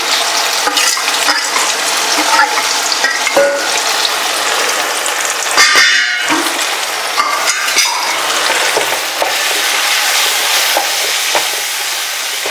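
Spices sizzle steadily in a hot pan for a cucumber curry, a continuous bright frying hiss broken by scraping, clattering stirs of a spoon against the pan, with one sharper burst of sizzling midway.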